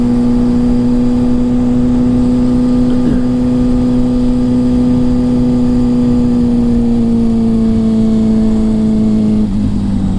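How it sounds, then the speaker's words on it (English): A 2007 Kawasaki ZX6R Ninja 600 motorcycle engine running close and loud, a steady droning hum whose pitch drifts slightly lower toward the end, with no talking over it. "This bike runs great."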